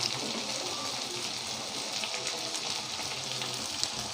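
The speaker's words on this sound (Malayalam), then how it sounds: "സബോളയൊന്ന് മൂത്ത് വരുമ്പോൾ നമുക്കതിലേക്ക് ഉള്ളി അരിഞ്ഞതിട്ട് കൊടുക്കാം" Chopped onions and green chillies fry in hot oil in a pan, cooked for a village-style spicy crab roast. A steady, close crackling sizzle continues throughout with no voices.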